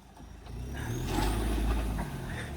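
A vehicle stuck in thick mud, its engine revving and straining as the driver tries to drive it out; a loud, close, rising motor roar with grinding, continuous and without voices.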